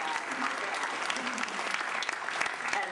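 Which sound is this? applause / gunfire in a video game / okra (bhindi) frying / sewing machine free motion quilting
applause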